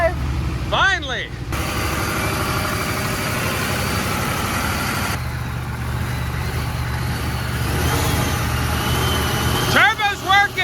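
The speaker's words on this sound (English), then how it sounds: "Turbo's working!" A dead Ford turbo diesel engine brought back to running, with a loud steady low rumble throughout, a whistling rise at the start and again near the end, and voices over it.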